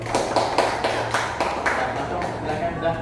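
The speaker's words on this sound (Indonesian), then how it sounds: "Kasih tepuk tangan untuk kelompok 1" A seventh-grade classroom claps for group 1: a rhythmic run of sharp hand claps, evenly spaced and fairly close, over a low steady hum and faint background voices.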